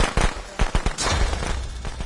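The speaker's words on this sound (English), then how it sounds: "They hit me with firecrackers again?" A rapid string of sharp cracks and pops, like firecrackers going off in game audio, bursting unevenly over a constant rumbling background.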